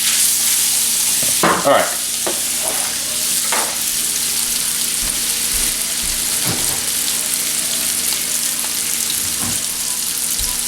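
Breakfast casserole ingredients fry slowly in a pan with a steady, close sizzle and occasional stirring scrapes, and a voice speaks one brief word near the start.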